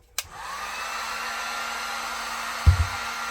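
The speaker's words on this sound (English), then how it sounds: "I'm just going to dry these off and see how they look with the heat gun." A heat gun dries leather Chelsea boots, switching on with a click and holding a steady, loud airy hum with a low drone, ending in a few knocks and a clunk, no speech.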